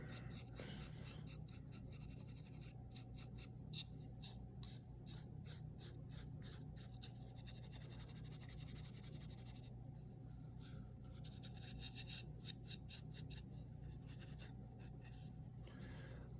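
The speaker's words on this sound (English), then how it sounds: "on the back, I'm going to try to sand the edges there too" Sandpaper rubs across the edges of a clay greenware leaf press in steady, quiet rasping strokes that come in bursts with short pauses, close and low in level.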